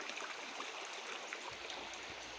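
A creek runs full and fast after heavy rain from a hurricane, with a steady broadband rush of flowing water that stays even and continuous throughout, mid-distance and without voices.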